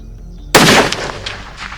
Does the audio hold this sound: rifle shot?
yes